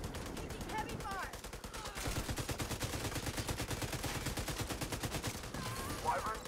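Rapid automatic gunfire from The Division 2 during a stronghold fight rattles on almost without pause, loud and close, with bursts layered over one another while players talk over the shooting.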